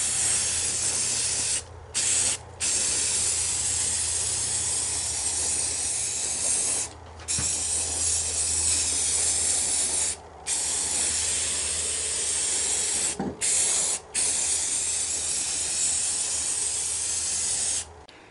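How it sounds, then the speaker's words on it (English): Aerosol paint sprays over stacked body grip traps used for bobcat, coyote and raccoon trapping, in long loud hissing bursts split by several brief pauses. "I'm using the overspray to hit the traps"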